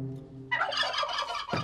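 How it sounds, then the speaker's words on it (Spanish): A turkey gobbles once, a rapid, loud, rattling burst of warbling calls after a brief pause, followed by a short extra squawk at the end. "¡El pavo!"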